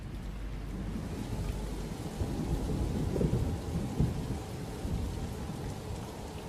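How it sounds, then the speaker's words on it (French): Rain falls steadily in the Algerian desert near El Oued, a dense, even hiss with a low rumble underneath, fairly faint and continuous with no voices. "J'ai vu la pluie tomber dans le désert."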